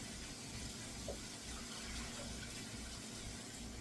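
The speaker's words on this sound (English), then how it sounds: "taking a shower" A home shower runs steadily in the background, a soft continuous hiss of spraying water that stays faint and even throughout, with no talking.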